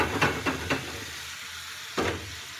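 Bacon fries in a pan for a full English breakfast, giving a soft steady sizzle broken by a few sharp crackling pops.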